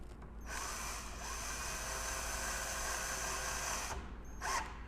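A power drill drives screws into a door knob with a sustained, even whirring whine that cuts off abruptly, then a short second burst.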